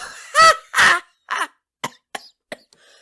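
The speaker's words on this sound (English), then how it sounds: "Those real coughs" A person coughing and clearing the throat close up, two heavy hacking coughs followed by several shorter, fainter coughs with silence between them.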